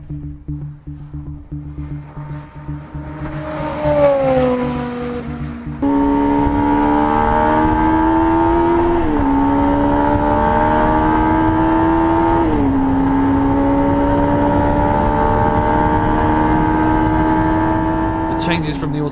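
A Jaguar C-X75 hybrid supercar with an automated manual gearbox accelerates hard at high speed, its engine climbing in pitch and dropping sharply at each gear change, loud and close throughout.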